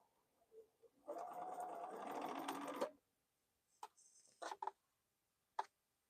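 A sewing machine runs for about two seconds without stitching, a quiet close whir, followed by a few short clicks and taps at the mechanism.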